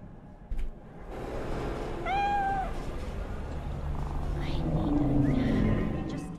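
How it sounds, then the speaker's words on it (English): A cat meows in Cyberpunk 2077, one clear drawn-out meow over a game-world background hum, with a short knock just before and someone speaking briefly afterward. "That cat's nicer than mine."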